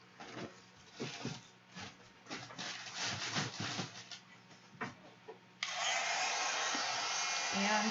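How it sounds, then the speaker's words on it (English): A heat gun starts up partway through to dry a mixed media canvas, giving a steady, close, loud blowing hiss. Before it switches on there are quieter handling sounds and a bit of soft voice. "We're going to give this a heat set."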